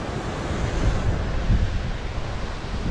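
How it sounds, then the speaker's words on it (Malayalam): Strong wind buffets the microphone at Thooval waterfall in Idukki, a loud, continuous roaring rush with no pauses and no voices. "നല്ല കാറ്റാണ്."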